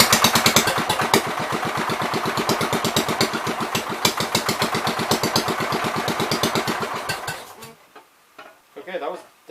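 A 1973 John Deere 110 garden tractor's small engine runs loud and close with a fast, steady chugging pulse, then cuts out abruptly near the end, leaving brief faint rattles and a short voice.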